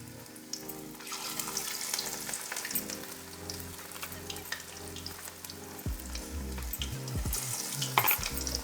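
Moringa flowers coated in rice flour batter frying in hot oil: a steady, close crackling sizzle running throughout, with occasional clinks and stirring scrapes.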